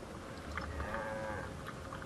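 A single cow gives a low, drawn-out moo in Guild Wars 2, faint and mid-distance against soft farmland ambience, holding steady before trailing off.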